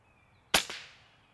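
A single sharp pop as a grape explodes, followed by a quick second crack and a brief fading tail, close and isolated against near silence.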